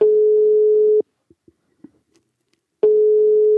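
Phone call placed to Camille, heard as a steady low ringback tone lasting about a second, then a pause with faint clicks, and the tone starting again near the end.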